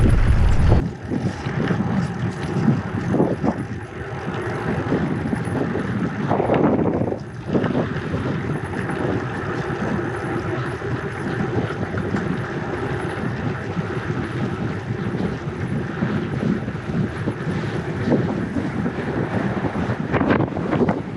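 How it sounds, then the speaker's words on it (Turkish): Strong wind buffets the microphone with a steady, loud roar and low rumble, gusting throughout with no voices. "Oh, bu ne rüzgar ya?"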